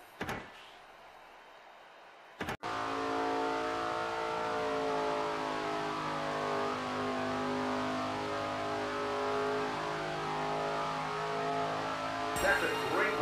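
A race car engine in the SRX racing game roars through a qualifying lap at Lucas Oil Raceway in Indiana. After a short quiet start, a loud, steady, close engine drone holds for about ten seconds with slowly shifting pitch.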